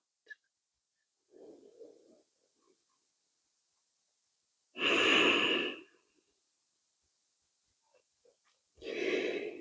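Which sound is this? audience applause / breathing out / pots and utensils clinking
breathing out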